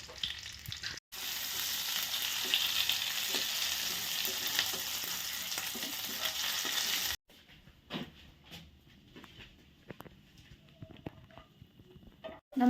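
Cardamom, cinnamon, bay leaf and cloves hit hot oil for Afghani chicken with a loud, dense sizzle that lasts several seconds, then stops abruptly. Scattered quieter clinks and taps follow.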